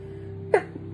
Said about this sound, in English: when you sneeze